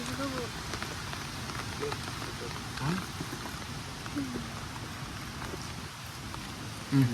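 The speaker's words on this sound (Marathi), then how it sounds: "हे बघा पाऊस पण येलो" Steady rain patters across the whole stretch during crab trapping outdoors, a dense even hiss with a few brief louder knocks near the end; no clear voices.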